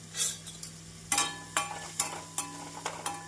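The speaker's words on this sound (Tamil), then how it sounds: "இஞ்சி பூண்டு விழுந்து சேர்த்து நன்றாக வதக்க வேண்டும்" Onions sautéing with ginger garlic paste in a pan for hotel-style masala dosa filling: a soft, steady sizzle broken by several sharp bursts of stirring and scraping. No one speaks.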